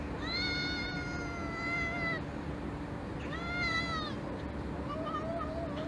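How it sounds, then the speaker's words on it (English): Cats caterwaul during mating in two long, rising and wavering yowls separated by a short pause, followed by fainter meows, loud over a hissy background. A single spoken word is heard. "the sounds of cat sex go through my head"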